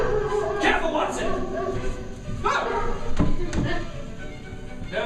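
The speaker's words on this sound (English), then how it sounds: "There are dogs about." Dogs barking in a back alley in a detective game, several sharp bow-wow barks spread across a few seconds amid thumps and other game sounds.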